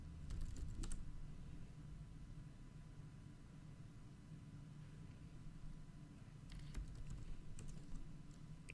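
Keystrokes on a computer keyboard as a password is entered, a short burst of quick clicks near the start and another cluster toward the end, over a steady low hum with quiet gaps between.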